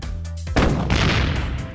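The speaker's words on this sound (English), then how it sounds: "I used the big shot cannon again" The big shot cannon in the Webkinz game Bathtub Battles fires once with a loud, booming blast that cuts off a droning tone and rolls out into a long, noisy rumble.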